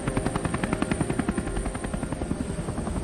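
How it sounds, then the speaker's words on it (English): Helicopter hovering over water during astronaut splashdown recovery training, a loud, continuous rotor thump with a fast, even beat and a steady engine whine beneath it. "rehearsing helicopter recovery from the water's surface"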